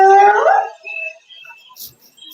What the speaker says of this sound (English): that's one of Africa's most iconic nighttime noises, is that whoop, much like a wolf's howl